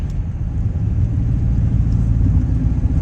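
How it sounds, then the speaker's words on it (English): A HEMI-powered Dodge Charger Pursuit with its electric exhaust cutouts opened gives a loud, deep, steady rumble, a continuous low throaty drone heard close up with no one talking. "It kind of sounds like a semi truck using its jake brake."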